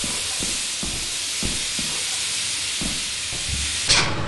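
Steady steam hiss from Lethal Company, a continuous broadband rush holding level throughout, with a few low thumps underneath and a brief brighter burst near the end.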